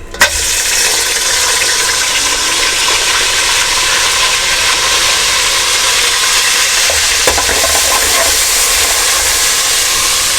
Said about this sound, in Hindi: अब हम हमारे बॉयल किए हुए पाए इसमें डालेंगे।